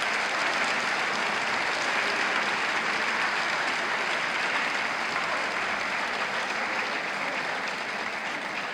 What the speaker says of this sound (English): So if you give these men a round of applause,